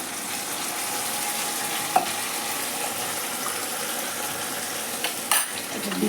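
A paste of tomato sauce, soy sauce and red chili sizzles steadily in a frying pan for Indian veg manchurian, a constant near frying hiss with a couple of brief clinks from a utensil.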